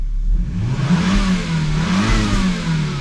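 Volvo S60R engine revving hard up to redline after a mass airflow fault was fixed, a loud close rising and falling roar with no one speaking.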